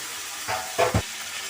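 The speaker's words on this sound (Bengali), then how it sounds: "কড়াইয়ে বাদবাকি যে তেলটুকু রয়েছে সেই তেল দিয়েই আমি চিংড়ি মাছটা ভেজে নেব।" Prawns fry in a little leftover oil in a wok, giving a few short bursts of sizzling and hissing spatter over a soft steady background, with no one speaking.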